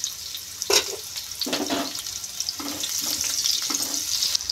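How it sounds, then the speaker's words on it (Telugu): Onion pieces fry in hot oil in a pan, a close crackling sizzle punctuated by several bursts of stirring, with no talk. "ఉల్లిపాయల ముక్కలు వేసుకొని కొంచెం ఫ్రై చేసుకోవాలి."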